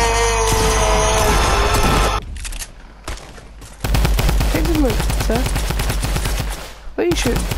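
Rapid bursts of gunfire from a Fortnite match crackle loud and close, with dense repeated shots clustering through most of the stretch and a brief lull in the middle, while a voice speaks over the action.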